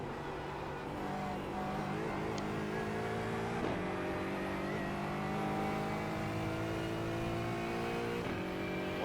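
GT4 race car engine in the iRacing sim revs steadily and loud throughout, with harmonic engine tones rising and dipping through gear changes, no talk present.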